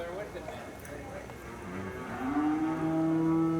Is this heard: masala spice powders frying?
no